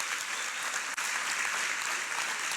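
A church congregation at a health congress claps for the Lord in a steady, even burst of applause, moderately loud and continuous with one tiny dip.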